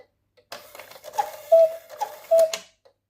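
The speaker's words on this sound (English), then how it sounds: "try to hear the bellows, if they're in rhythm with each other" A Snow White clock mechanism with bellows runs in short bursts of clicking and whirring, with two brief reedy whistle tones from the bellows, close and fairly quiet, over about three seconds.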